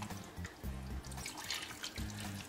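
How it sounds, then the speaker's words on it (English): Water from a one-cup measure pours over a pork butt being prepared for slow cooking, a steady close splash and trickle running without talk. "I'm going to take 1 cup of water and put in there"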